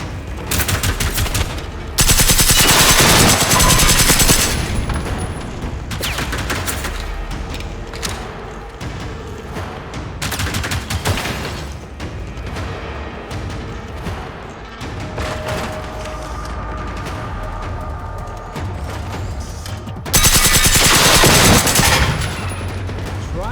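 Automatic gunfire aimed at robots in Generation Zero, long loud bursts with booms and thuds, near and heavy, easing between volleys and resuming strongly.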